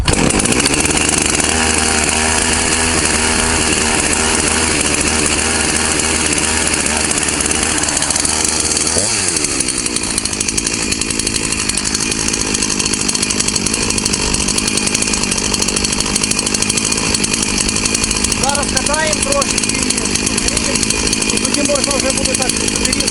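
A Husqvarna 353 chainsaw being broken in, its two-stroke engine running loud and close, revving hard at first, then settling into a steadier high drone with brief pitch rises, nobody talking.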